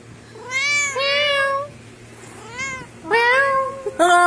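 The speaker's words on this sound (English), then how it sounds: "This cat is so cute." A cat meows clearly and close by, several separate drawn-out meows with pauses between them, with a low steady hum underneath and no talking.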